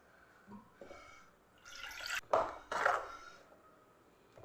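Rinse water from a mixer jar is poured into tomato gravy cooking in a pot: quiet kitchen clinks, then two short, louder splashing pours in the middle, fading back to a low simmer.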